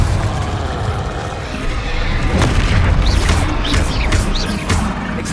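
Confringo fire spell blasts in Hogwarts Legacy amid rapid spell combat, a sustained, heavy booming roar with several crackling bursts on top, loud and close, while a voice calls out spells.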